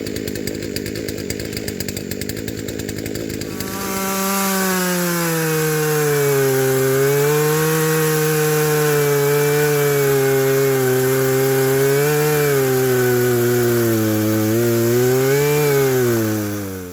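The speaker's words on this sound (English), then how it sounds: "Let me get to ripping that chainsaw, see if I can get it started." A chainsaw revs up after a brief rattling start, then roars steadily and loudly up close, its pitch wavering as it bites into wood.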